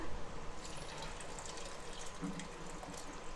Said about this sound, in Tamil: இன்னும் 1 தடவை நான் தண்ணி ஊற்றி கரைச்சி ஊற்றிடுறேன்.